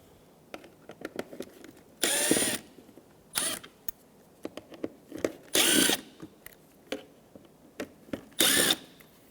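A power drill backs out fog light screws on the front bumper cover of a 2014-2019 Toyota Highlander, giving four loud, close whirring bursts about two seconds apart, with small clicks and handling taps between them.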